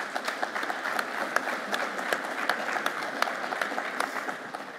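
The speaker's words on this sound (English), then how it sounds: "I think she deserves another round of applause." Sustained applause from a conference audience at a men's sheds gathering, steady dense clapping throughout with a few sharper individual claps standing out, moderately distant and filling the room.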